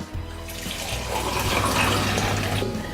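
Nicholson's Pale Ale poured into a glass: a steady, quiet stream of liquid running for about three seconds with a soft gurgling fill and no voices.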